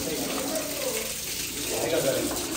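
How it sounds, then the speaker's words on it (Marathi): Hot spring water pours steadily from a spout above a river at Rajapur in Ratnagiri, Konkan, making a continuous, close rushing splash with no breaks. "इथे वरती गरम पाणी येतं"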